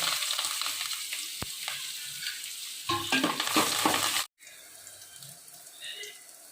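Onion and curry leaves tossed into hot oil with fenugreek seeds, giving a hissing sizzle with stirring scrapes that grows louder, then cuts out abruptly before a softer frying hiss resumes, with brief voice in the background.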